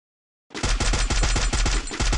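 A loud, fast burst of automatic gunfire in a battle royale shooter during a headshot kill, with crisp, evenly spaced shots that start abruptly and run without pause.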